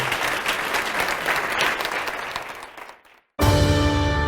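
Church congregation standing to applaud at the close of a service: dense, sustained clapping for about three seconds fades out, then a bright musical sting breaks in loudly.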